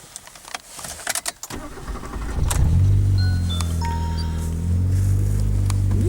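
A car engine cranks and catches after some handling noises, then settles into a loud, steady idle with a faint high squeal from the alternator belt.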